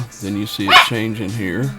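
Dogs barking in a home, heard in the background beneath someone speaking near a radio and a TV playing in another room.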